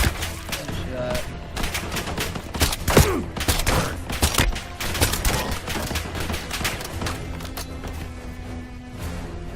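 Dense gunfire in Call of Duty Black Ops 7, with rapid, loud overlapping shots and bursts filling the whole stretch, plus some in-game impacts and a faint voice underneath.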